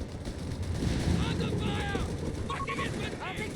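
Rapid machine gun bursts and battle noise from the Company of Heroes 3 strategy game, a dense continuous rattle of gunfire with clattering mechanisms, steady and loud throughout with no voice over it.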